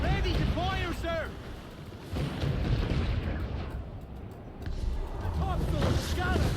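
Ship cannons fire in a naval battle in Assassin's Creed IV: Black Flag, heavy booms rumbling low beneath shouting crew voices and a busy, noisy sea-battle backdrop.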